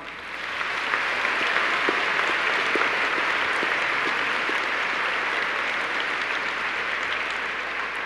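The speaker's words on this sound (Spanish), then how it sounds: "Le damos un aplauso." A church congregation at Sunday Mass breaks into steady, sustained clapping that holds at an even level for several seconds.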